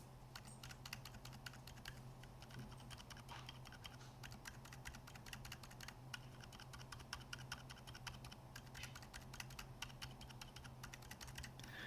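Gazzew Boba U4 silent tactile switches being typed on, a steady stream of soft, muffled key presses with dense rapid clicks running throughout, close and alone with no talking.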